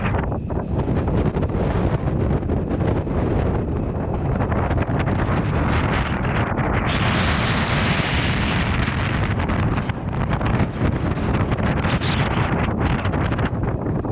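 Strong wind at a lakeside viewpoint in Nicaragua buffets the microphone in a loud, continuous roar with gusty surges, and no other sounds come through.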